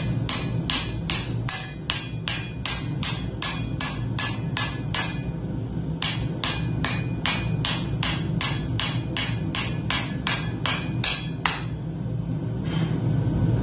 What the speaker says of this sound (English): Use a ball peen hammer just to kind of